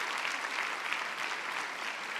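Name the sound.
congregation applauding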